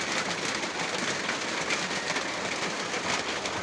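Steady, dense rain pours down in a continuous hiss, loud and close, with no pauses or voices.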